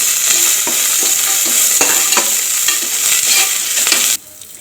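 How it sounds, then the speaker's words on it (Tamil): Mint and coriander leaves stirred in hot oil for a Tamil country-chicken curry give a steady, loud sizzle, with regular scraping stir strokes roughly every half second, before the sound cuts off abruptly near the end. "இப்போ இது எண்ணெயிலே ஒரு 2 பரட்டி விடுங்க."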